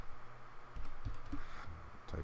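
A computer keyboard is typed on one-handed, giving a quick run of soft, close key clicks over steady background hum.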